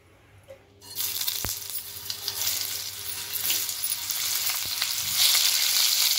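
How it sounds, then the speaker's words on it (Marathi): Oil heating in a hot pan for tomato chutney: quiet at first, then a steady sizzling hiss begins and slowly grows, with a couple of sharp clinks of utensils against the pan. "पॅन गरम झालाय, आता आपण त्यात 1 चमचा तेल घेऊया।"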